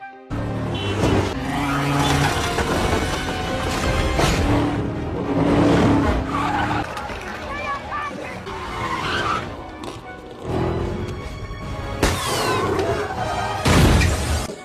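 A car chase in an action thriller film: loud engines roar while tires skid and squeal repeatedly, over a dense, dramatic mix with crash-like bursts near the end.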